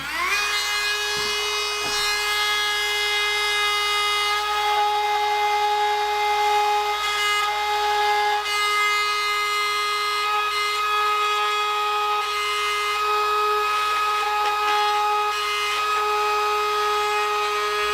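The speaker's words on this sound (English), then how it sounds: "I'm going to take this Dremel tool and cut the fissures and the holes where they should be." A Dremel rotary tool cuts through a moldable plastic skull mask with a continuous, loud, high-pitched whine that holds steady and close for the whole stretch.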